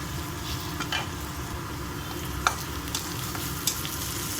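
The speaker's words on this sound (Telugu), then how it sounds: "పచ్చి వాసన పోయే వరకు ఫ్రై చేయాలండి." Meal maker soya chunks fry in a pan with a soft, even sizzle, small pops and occasional faint clicks of stirring, close up and without talking.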